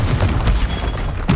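Confringo spell blast in Hogwarts Legacy: a few heavy booming bursts in quick succession, loud and close, with rumbling impacts trailing between them.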